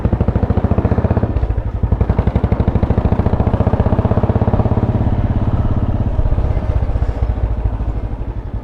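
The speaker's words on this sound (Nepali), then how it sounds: "त्यो घुमा त बाइक घुमा न, बाइक घुमा" A motorcycle engine runs close and loud during a ride, its rapid even chugging pulses steady throughout with no speech.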